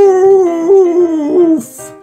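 A cartoon dog's voice gives a loud, tonal, howling woof with a wavering pitch, close and alone, ending in a brief bright flourish; sounds like a voice imitating a dog.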